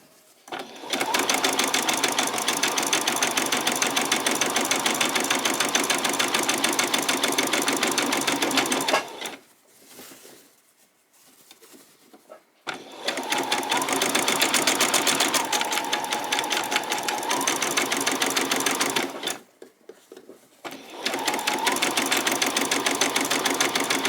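A sewing machine stitching fabric for a peasant top, long runs of loud, rapid, even mechanical whirring broken by two short pauses where it stops before starting again.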